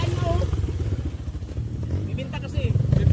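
A motorcycle engine runs steadily close by, a low rumbling drone with some clatter, while people talk over it throughout.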